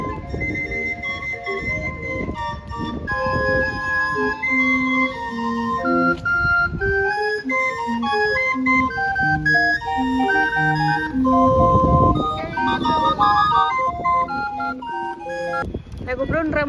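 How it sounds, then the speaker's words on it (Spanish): Bright, mechanical barrel organ music plays outdoors in a lilting melody of piping tones, steady and fairly close, with some low background rumble. "Hoy suena la música del organillero."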